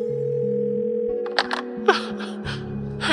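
A telephone tone hums steadily as an employee calls a coworker from the office phone list, followed by several short clicks and beeps of the handset, close and clear without speech.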